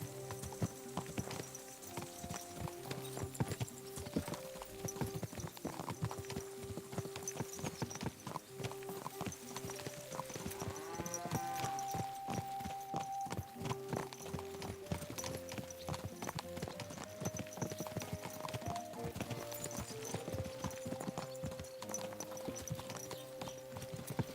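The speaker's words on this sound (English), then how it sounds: "Watch out with that horse!" Steady clip-clop of horse hooves in the video game Kingdom Come: Deliverance II runs throughout, layered over music and ambient noise, with occasional voices and a whinny in the mix.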